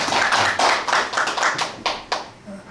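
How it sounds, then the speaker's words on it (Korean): A small audience clapping at a Korean book concert, a burst of hand claps in an uneven rhythm, close and fairly loud, thinning out toward the end. "박수 한번."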